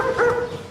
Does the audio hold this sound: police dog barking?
yes